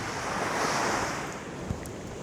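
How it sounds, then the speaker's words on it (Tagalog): Gentle sea waves washing onto a white-sand beach at Bataan, a steady soft surf roar with light wind buffeting the microphone and no voices. "So hindi malakas yung alon."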